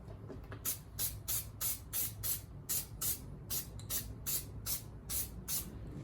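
Headliner adhesive sprays onto Porsche sport seat foam in about a dozen short, evenly spaced hissing bursts, close and fairly quiet, with no talking.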